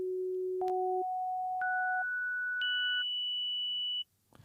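Four clean synth tones step upward in pitch, each entering a second apart and ringing longer than the last, bright and electronic.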